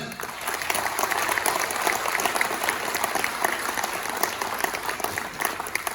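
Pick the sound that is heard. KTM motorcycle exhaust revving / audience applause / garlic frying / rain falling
audience applause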